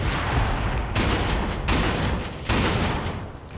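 A shotgun fires in a Blacklight: Tango Down deathmatch, four loud blasts spaced about three-quarters of a second apart, each a sharp close report followed by a short echoing tail, with no talking.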